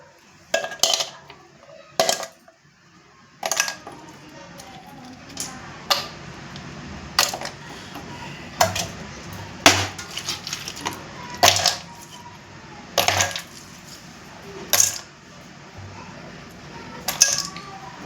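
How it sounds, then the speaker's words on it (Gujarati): Small ice pieces drop one after another into a vessel, making irregular bright clinks and clatters spaced a second or two apart, close by, over near silence. "હવે આને અંદર નાખશું નાના નાના ટુકડા જે છે."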